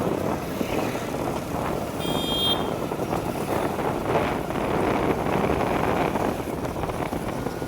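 A motorbike ridden through town toward the market, with a steady engine drone and heavy rushing wind buffeting the microphone, plus a brief high beep from nearby traffic.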